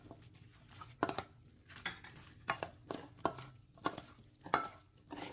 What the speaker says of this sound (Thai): มะเขือเทศอีกหนึ่งลูกครับ หั่นเป็นชิ้นๆก่อนนะครับ